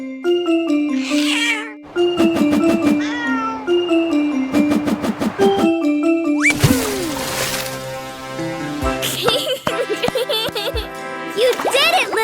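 Meows from a cartoon kitten rise over bright, bouncy music with chiming notes and cheerful voices, several short cries sounding close and loud.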